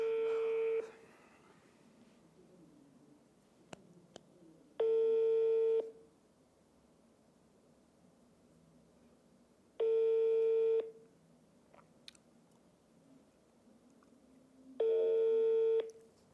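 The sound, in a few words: outgoing telephone call ringing tones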